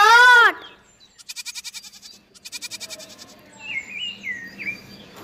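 After a brief sung tone, a goat bleats in rapid, stuttering pulses twice, followed by softer chirping bird-like calls.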